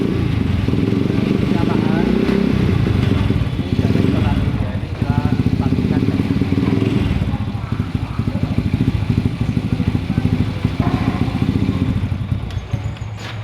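A motorcycle engine idling and revving during carburetor adjustment, a loud, close, uneven putter with rhythmic firing pulses and dips in speed, with someone talking over it.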